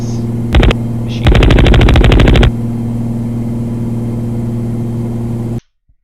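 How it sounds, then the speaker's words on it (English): Rapid bursts of X-Wing blaster fire in a space-flight game built in Godot, a short volley then a longer rattling run, loud and close over a steady droning propeller-like engine hum that continues alone afterward. "we get an X-Wing flying in space, sounding like a Cessna"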